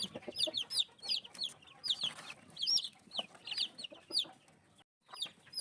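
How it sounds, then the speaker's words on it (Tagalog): Young chicks chirp and peep repeatedly in high, quick bursts, with soft rustling and clucking from a hen underneath. "Nagsisiyapan ang mga sisiw kahit tumuka na."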